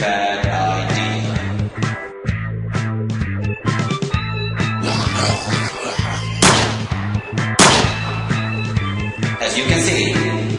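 Rapid bursts of gunfire from a weapon in Call of Duty Zombies repeat in choppy, rhythmic volleys, loud and dense, with game sound effects layered across the scene.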